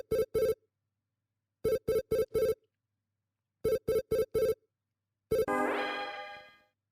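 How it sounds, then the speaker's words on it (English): A video phone ringtone from the Snatcher video game rings in three loud groups of quick electronic beeps separated by pauses, then ends with a final chime and a short rising electronic sweep, with no voices. "Gillian, I have a video phone call from Jamie. I'll connect you."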